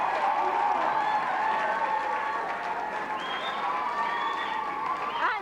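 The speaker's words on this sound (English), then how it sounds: "A big round of applause for Yarborough." Studio audience applause and cheering for the Yarborough team on the game show On Your Marks, a sustained dense clapping wash with crowd noise throughout, fairly loud and steady with no one speaking over it.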